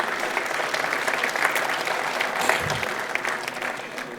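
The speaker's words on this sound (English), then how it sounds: "I'd like you to join me in a round of applause for Jay and the whole team." A conference audience breaks into a sustained round of applause, dense and even clapping from many hands throughout, fairly loud and uninterrupted by speech.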